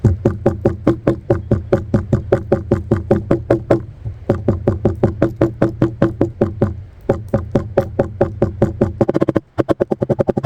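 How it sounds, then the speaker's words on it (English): A hammer taps fabric over a leaf to transfer its print, a long run of quick, even knocks close by, pausing briefly twice before a faster final burst. "hammer the print in"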